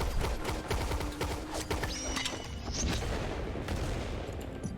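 Rapid volleys of gunfire from a Gunslinger skill in the video game Lost Ark, with dense overlapping shots and sharp metallic pings in quick succession, sustained and loud with no talking.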